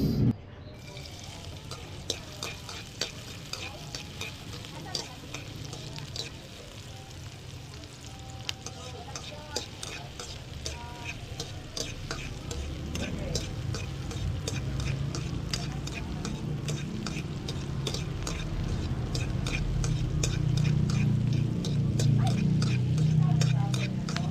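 Onions go into a hot pan for octopus sisig, starting with a few ticks and clacks of utensils, then building into a steady sizzle that grows louder and fuller toward the end.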